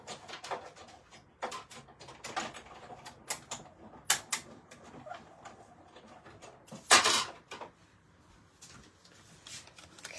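A die cutting machine runs card stock through, giving a series of short clacks and rattling rolls at close range, with a louder crunching burst near the end and quieter handling noises between.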